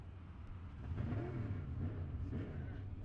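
A race car engine at a speedway fires up and runs with a low, rising rumble that settles into an uneven idle, heard from a distance.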